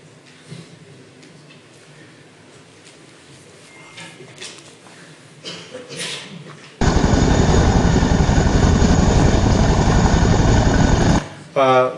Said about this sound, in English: Boeing CH-47 Chinook